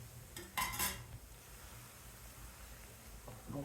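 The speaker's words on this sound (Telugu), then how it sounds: "ఇలా గుల్లొచ్చేటట్టుగా ఒక పక్కన తిప్పుతూ ఒక పక్కన పోయాలి" A spoon stirs Mysore pak batter in a pan while hot ghee is poured in, making a few quick clinks and scrapes against the metal early on, then a soft steady frothing hiss, and another brief scrape at the end.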